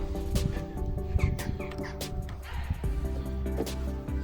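Spring birdsong near a Citroën Xsara Picasso under repair: scattered short chirps and squawks, fairly faint, over a constant low rumble and occasional knocks.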